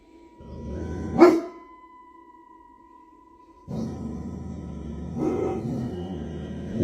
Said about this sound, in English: his dog started barking at something unseen.